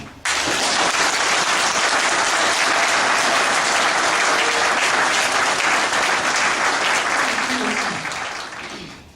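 Dense, sustained applause from a large audience at an official follow-up committee ceremony, honouring the president of the Republic: steady, loud crowd clapping filling the room for about nine seconds before tapering off.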